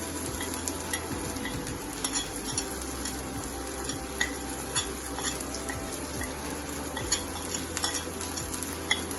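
Mutton being stirred in ghee with red chili powder, a soft continuous sizzle under repeated scraping and clinking of a spoon against the pan, fairly quiet and without talking.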